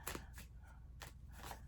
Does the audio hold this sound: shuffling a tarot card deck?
yes